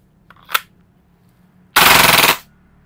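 An Action Army AAP01 airsoft pistol fires one quick pop, then a rapid full-auto burst of about ten shots in under a second, loud and close, with quiet between.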